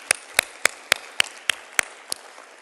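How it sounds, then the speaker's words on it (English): Eight sharp, evenly spaced claps ring out in a quick steady rhythm, fairly close and isolated against a quiet room, the applause of an evening panel audience at a closing plenary forum. "A warm round of applause for them, ladies and gentlemen."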